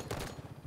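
Brief burst of rapid automatic gunfire from the Halo 5 Guardians video game, a fast rattling volley lasting under a second.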